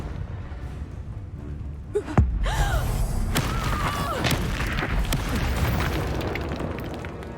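A Confringo fire spell cast in Hogwarts Legacy, one sharp blast with a deep booming thud, trailed by a crackling, rumbling tail and scattered game effects over a steady background.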